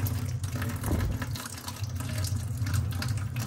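Water rushing steadily from a residential boiler drain line as sludge is flushed out, a continuous close hiss of flowing water throughout.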